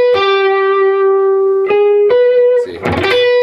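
Electric guitar played with a sweep-picked rake: sustained harmonic-rich notes ring out with a couple of quick restrikes, then a burst of muted raked strings before a final note rings on, loud and close with effects.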